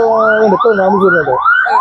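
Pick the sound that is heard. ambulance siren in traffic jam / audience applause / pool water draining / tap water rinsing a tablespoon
ambulance siren in traffic jam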